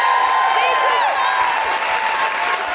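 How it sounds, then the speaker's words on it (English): A live audience at a feminist comedy podcast recording gives loud, sustained applause with dense clapping and some cheering, steady throughout. "Can I have a really huge round of applause for the amazing Miranda Kane?"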